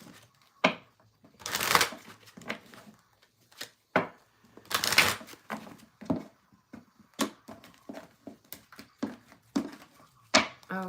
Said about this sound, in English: Last deck. Last deck to shuffle